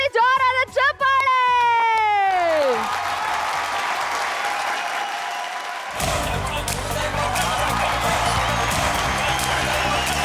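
Loud studio-audience applause welcomes guests on the TV show Siri Super Mom; a short musical sting with falling tones comes first, then dense, steady clapping and crowd noise fills the rest, swelling partway through.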